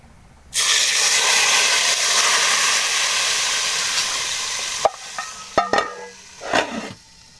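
A sudden loud burst of sizzling as a hot oil tempering hits beef nihari stew, hissing steadily for several seconds before fading into a few clinks and stirring sounds.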